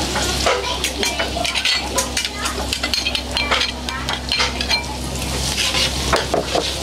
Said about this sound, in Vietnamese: Rồi bây giờ dì sẽ khử cái phần ngải nghệ với xả chung nha.